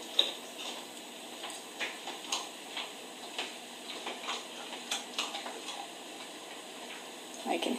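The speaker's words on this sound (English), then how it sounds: "I can hear him munching." A dog eats dry food from a bowl on a carpet, making soft, irregular crunching clicks spaced about every half second, close and fairly quiet against a hushed indoor background.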